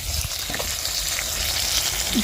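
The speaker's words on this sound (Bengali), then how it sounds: "মাছের এক সাইডটা সুন্দর ভাজা হয়েছে এবারে উল্টিয়ে দিই" Loud, steady sizzling of fish frying in hot oil in a pan, close up, with faint spatters and no talking.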